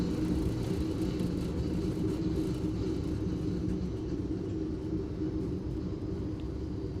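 Simulated airliner landing and braking on a runway in Microsoft Flight Simulator 2024, a steady, loud broadband engine and rolling rumble that holds evenly throughout without speech.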